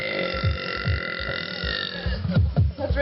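Ricky lets out a string of deep, rumbling burps, repeated pulses that grow louder and choppier toward the end, close and prominent.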